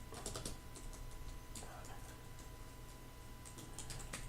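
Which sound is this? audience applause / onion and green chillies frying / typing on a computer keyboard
typing on a computer keyboard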